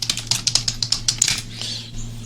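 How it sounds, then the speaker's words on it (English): A burst of computer keyboard typing as a command is entered to build a CP/M drive image for a Z8S180 system: about a dozen quick, crisp keystrokes close by, then a short pause and a fainter tap or two, with no talking. "So I can go ahead and type make"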